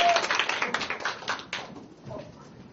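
A crowd at a university student worship service claps in a brisk burst of applause that fades out within a couple of seconds, followed by a quieter room.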